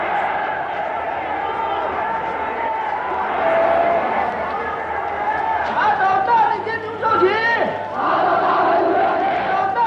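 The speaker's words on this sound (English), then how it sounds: "stadiums that shake with the roars of the vengeful crowd" A huge vengeful crowd roaring in a stadium, a dense, sustained wall of shouting voices with surges and cries rising over it throughout.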